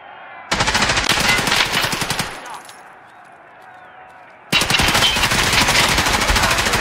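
Rapid automatic gunfire in Tarkov Arena, loud and close, in two long sustained bursts separated by a quieter lull of a few seconds.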